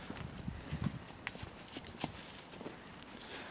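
A donkey's hooves clop along at a walking pace on a winter outing, an uneven run of light knocks over faint outdoor background noise.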